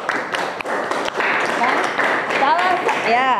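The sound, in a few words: applause for Dudi in a classroom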